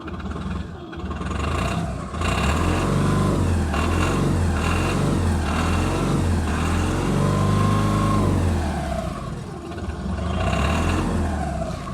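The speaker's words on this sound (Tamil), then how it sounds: "நான் வண்டியில் ரேஸ் பண்ணுறேன்" A Tata Ace Gold mini pickup truck engine revs repeatedly, rising and falling in pitch in a series of throttle bursts, loud and close, with no talking.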